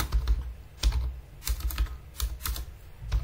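Rapid clusters of computer keyboard keystrokes typing a ChatGPT prompt, close and crisp, in bursts with short gaps between.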